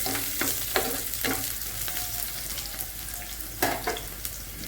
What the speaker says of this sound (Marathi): याला छान तेलामध्ये फ्राय करून घेऊ आपण